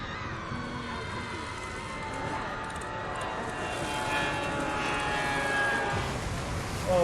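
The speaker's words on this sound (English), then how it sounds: "Oh no, the plane crashed." An airliner's engines roar in the opening cinematic of the video game BioShock, a steady droning rush that swells louder toward the crash at the end.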